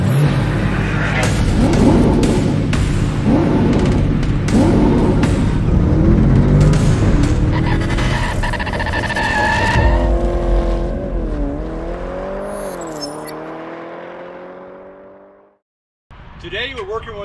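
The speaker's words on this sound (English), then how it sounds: "This is a 2020 Nissan Altima all-wheel drive platinum trim edition." A 2020 Nissan Altima AWD Platinum sedan drives with loud, steady road and engine noise that shifts pitch as it moves, while a voice talks over it; the sound drops away near the end, then briefly returns.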